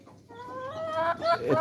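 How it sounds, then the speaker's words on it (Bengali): Layer hens cluck while eating at a poultry farm: a close, rising run of hen calls over soft barn background, growing louder toward the end. "এই যে লেয়ার মুরগিগুলো আরামসে খাচ্ছে।"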